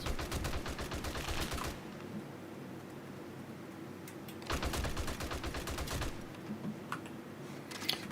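Rapid gunfire in the zombie survival game 7 Days to Die comes in two distinct fast bursts of shots separated by a quieter pause, fairly faint and without talk.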